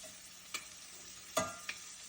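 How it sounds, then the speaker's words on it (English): Shrimp cooking in butter and olive oil in a home kitchen pan make a quiet, soft sizzle, broken by three sharp clicks or clinks, the middle one the loudest. "So first we cook the shrimp in some butter, sauce, and a little bit of olive oil so the butter don't burn."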